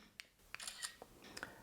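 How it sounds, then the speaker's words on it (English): Several short, faint clicks of a phone's camera shutter, spaced irregularly across a second or two in a quiet room. "does it mute the shutter button noise?"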